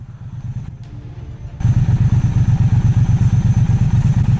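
A Triumph Street Twin motorcycle engine idles close by in the Lake District, a steady loud rapid chugging pulse that starts abruptly after a quieter opening and continues evenly.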